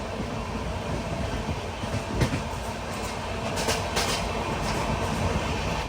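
Steady rumble of the Rishikesh Express running, heard from inside a 3AC coach, with continuous wheel-on-rail clatter, a few sharper knocks from the track, and no voices.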